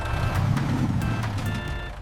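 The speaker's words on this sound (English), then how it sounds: "Garbage truck." A garbage truck backing up sounds a loud, repeating electronic reversing beep in about three bursts over a steady low diesel engine rumble.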